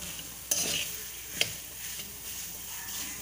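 Kova (milk solids) fries in a pan with a soft, steady sizzle, broken by a couple of sharp scraping strokes of a spoon against the pan.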